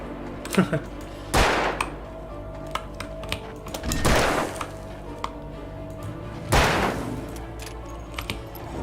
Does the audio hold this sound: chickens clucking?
no